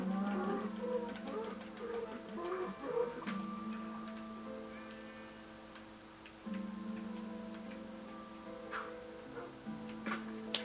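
A cow mooing in the Minecraft video game, heard as a few low, drawn-out game moos over steady background game music and ticking effects, with no talk.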